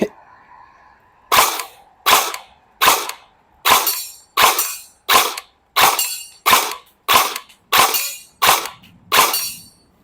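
A Golden Eagle M16A4 electric airsoft BB gun fires twelve sharp, loud single shots at a 10 cm target 15 metres away, evenly spaced about a second apart after a faint opening hum.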